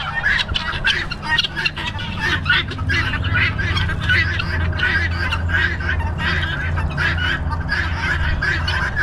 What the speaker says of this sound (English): The glorious sound of the birds in the morning